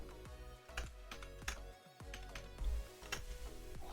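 A computer keyboard is typed on close by, giving quiet, irregular bursts of clicking keystrokes with short pauses, and no talking over it.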